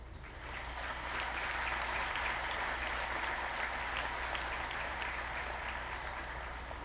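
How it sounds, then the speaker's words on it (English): A crowd applauds steadily, many hands clapping together in a dense, sustained wash that swells quickly and holds for several seconds. "That deserves a round of applause."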